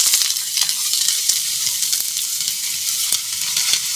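Thin-cut potatoes and ivy gourd fry in mustard oil with whole cumin and nigella seeds, giving a loud, bright, steady sizzle up close with scattered crackles and pops throughout. No voices break in.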